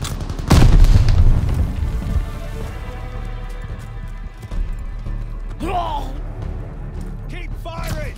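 Gunfire and a heavy boom ring out in a Call of Duty Vanguard battle at Merville, France, during Operation Tonga: a loud blast near the start, then scattered shots and clatter beneath shouted voices and game noise.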